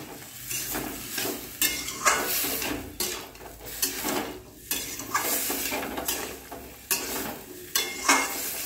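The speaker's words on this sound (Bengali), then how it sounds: "দেখুন এর মধ্যে কাবলি ছোলাটা দিয়ে মিক্স করব।" Chickpeas stirred into a cooking pan for chana, with scraping, clattering spoon-on-pan strokes repeating in an irregular rhythm over a faint sizzle, close and moderately loud, no talking.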